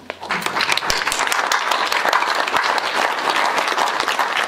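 Audience at an evening bioethics lecture applauding a speaker, a full sustained burst of many hands clapping that starts quickly and continues evenly throughout.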